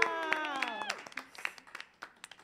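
A cheering voice rings out, then a few scattered, quiet claps follow from the crowd at a live concert at Sony Hall and thin out to a handful of soft claps.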